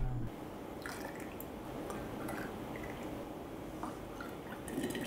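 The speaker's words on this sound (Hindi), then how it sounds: "सारी बॉटल्स में हमने पानी को फुल भर लिया है और कैप को अच्छी तरीके से टाइट कर दिया है।" Water at about 97 degrees Celsius poured and filling insulated bottles from brands like Milton, Cello, Borosil and Pigeon, a steady liquid rush with faint dripping, no talk.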